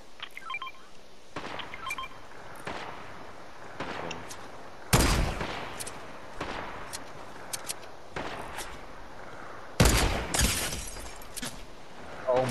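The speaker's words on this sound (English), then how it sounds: "I'm getting shot at." Fortnite gunfire arrives in sharp, separate shots and short clusters spread across the stretch, a few hitting loud and close while others sound thinner and farther off.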